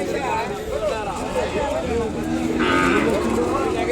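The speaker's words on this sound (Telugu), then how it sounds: "చిన్న దూడ." A small calf moos repeatedly at a busy cattle market selling Ongole bulls and cows, its calls loud and close over steady crowd noise and background chatter.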